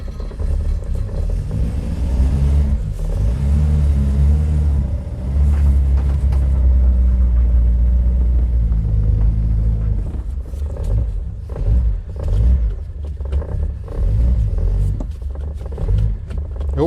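A car engine rumbles loudly and close by, with a deep steady idle and surges in pitch as the driver selects first gear.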